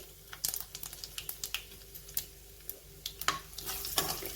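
Urad dal and dried red chillies frying in oil for a garlic upma, giving a close, crackling sizzle broken by repeated scraping and stirring clicks from a spoon.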